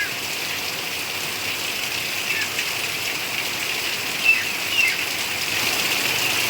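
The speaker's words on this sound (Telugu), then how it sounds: "అతి పెద్ద వర్షం అండి" Heavy rain pours down in a dense, continuous hiss, loud and unbroken, with a few brief louder splashes and no talking.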